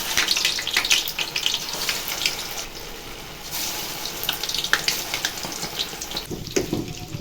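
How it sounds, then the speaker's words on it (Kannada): Kebabs frying one by one in heated oil for a Sunday home meal, a steady dense sizzle and crackle that runs continuously at close range with no voices. "ಇವಾಗ ಎಣ್ಣೆ ಕಾದಿದೆ, ಒಂದೊಂದಾಗಿ ಕಬಾಬ್ ಮಾಡೋಣ."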